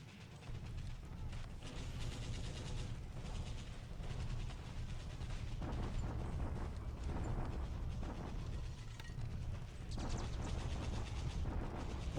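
Dense, continuous rumbling barrage of explosions and gunfire from an artillery bombardment in a WWII Pacific strategy game, loud and sustained throughout with shifting bursts and no talk.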